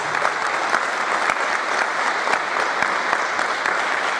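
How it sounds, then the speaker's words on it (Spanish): Applause from the audience at a judo event, a dense, steady wash of many hands clapping at fairly close range throughout, with no talk over it. "Aquí voy a pedir un fuerte aplauso para él."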